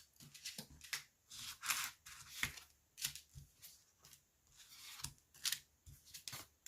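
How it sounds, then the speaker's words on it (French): Oracle cards being shuffled and drawn during a French-language tarot-style reading, a run of quick papery riffles and soft slaps in irregular bursts, fairly faint and close, with no talking. "Alors, on va sortir 5 cartes."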